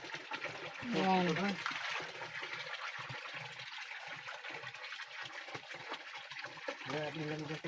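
Icy spring water pours from a bamboo spout into a bathing and drinking spot, a steady close trickle and splash under ongoing conversation.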